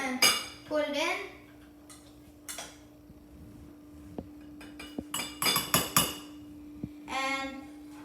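A bowl and dishes handled in a home kitchen while serving brown rice and steamed broccoli: scattered clinks and knocks of crockery and utensils close by, with brief talk at the start and near the end.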